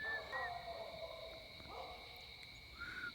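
A distant bird calls out in the night with a few drawn, wavering notes over a steady insect drone.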